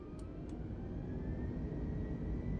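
Airliner engines spooling at full TOGA takeoff thrust in Microsoft Flight Simulator, a steady heavy roar with a rising whine, loud and continuous, with no talking.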